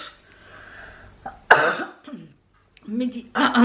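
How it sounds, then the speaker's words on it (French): A sharp, forceful cough bursts out close by amid a woman's speech, followed by a smaller throaty rasp before she talks again. "je tousse encore, ça c'est pénible"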